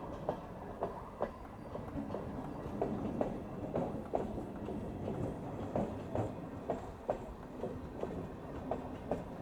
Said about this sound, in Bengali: এটা নিয়ে 3 নম্বর ট্রেন গেল